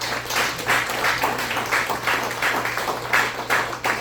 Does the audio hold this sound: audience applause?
yes